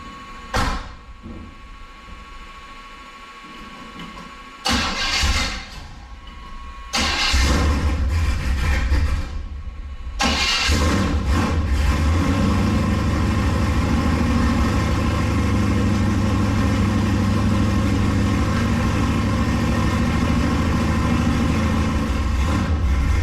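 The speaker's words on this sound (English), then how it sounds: "then we'll fire this thing up, make sure we don't have any leaks" Turbo LS engine in a Monte Carlo cranking over with a few bursts, catching, then settling into a loud, steady, rumbling idle close by, with no talking.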